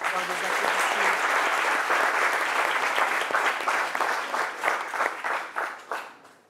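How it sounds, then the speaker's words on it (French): A television studio audience claps for a guest named Pauline, dense sustained applause that thins into scattered claps and fades at the end. "Est-ce qu'on peut encourager Pauline par des applaudissements?"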